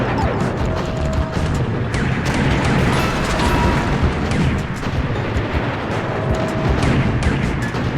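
Rapid, continuous booming of cannon fire in Super Mario Odyssey, overlapping blasts and crashes forming a loud, chaotic barrage with no letup.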